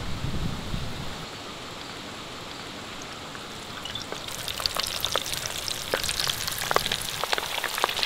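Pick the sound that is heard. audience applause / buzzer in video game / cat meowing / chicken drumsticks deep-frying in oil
chicken drumsticks deep-frying in oil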